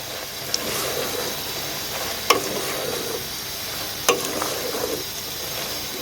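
Cauliflower and potato curry stirred in a pan, a steady soft sizzle with a few sharp spoon clinks against the metal, close and alone without talk.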